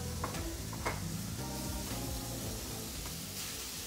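Mushrooms sear in a hot pan with a steady hiss and sizzle, dotted with light ticking pops, continuous and fairly close.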